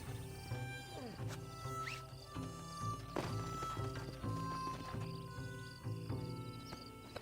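Horse hooves clip-clopping in Red Dead Redemption 2, with a whinny-like call near the start, under game music and effects and voices talking.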